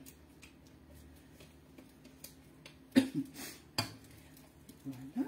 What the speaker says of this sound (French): on va prendre la maryse pour récupérer tous les oignons